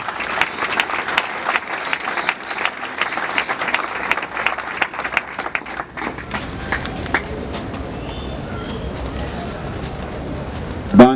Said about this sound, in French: Applaudissons un peu très fort pour la jeunesse du parti.